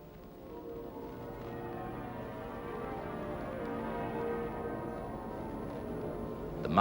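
Muffled church bells of St Paul's Cathedral in London ring out high above the church, a dense wash of overlapping peals sustained evenly and growing slightly louder, heard at a distance with no talk.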